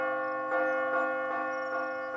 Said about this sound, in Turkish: Bu uzaktan kumandalı çanı seviyorum.